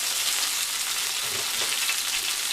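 Garlic and parsley sauté in a hot pan, a steady, close, bright sizzle with a faint stir or scrape partway through and no talking.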